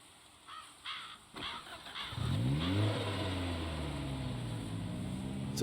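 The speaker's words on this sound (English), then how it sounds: "The engine groaned to life and we were off." A car engine in the zombie-survival game Project Zomboid cranks with a few stuttering turns, then catches and settles into a steady running idle, with a caw-like squeal at the start.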